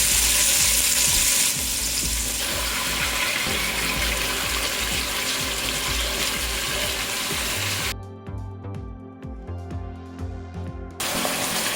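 Beef ribs browning in a pan, with a steady loud sizzle and crackle running throughout that dips briefly before returning, close and without talk.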